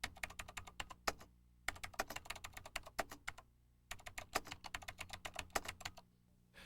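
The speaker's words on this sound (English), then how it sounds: "And then type in the message." Rapid typing on a late-1990s computer keyboard while writing an email, close and crisp, in bursts of keystrokes separated by short pauses, with no talking.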